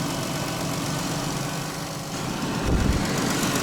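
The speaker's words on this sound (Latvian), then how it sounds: "Motorīns baigi smuki strādā." A Chrysler Voyager diesel engine idles steadily up close, a continuous low rumble with mechanical vibration that swells slightly louder near the end.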